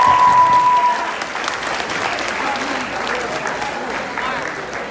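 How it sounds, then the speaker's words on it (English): Audience applause at a school sports banquet, a dense steady wash of clapping from a large crowd that starts loud and holds for about five seconds, with a brief tone near the start. "Give a round of applause to Mark Shapovalov."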